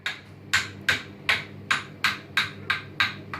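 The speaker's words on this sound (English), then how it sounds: "Doing a good job of hammering." A child pounds a toy hammer in a steady rhythm of about nine sharp, close knocks, evenly spaced and moderately loud, with no talking over them.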